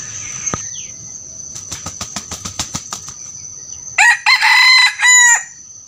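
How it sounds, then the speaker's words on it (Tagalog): A Talisayin gamecock rooster crows once, loud and close, a drawn-out call near the end of an otherwise quiet stretch that opens with a sequence of soft, evenly spaced clucks or flaps. "Yun po yung tilaok ng aking pangate na galing kay Kuya Cesar Tenorio, yung talisain."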